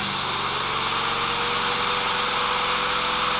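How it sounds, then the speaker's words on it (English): A Champion inverter generator labors under a 1500-watt heater and a grinder, its engine droning in a loud, continuous hum with a rough, uneven pulse as it bogs. "I don't know if you can hear the generator, but it's kind of running, kind of bogging out"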